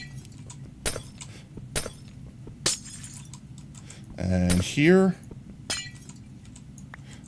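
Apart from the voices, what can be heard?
glass blocks breaking in a video game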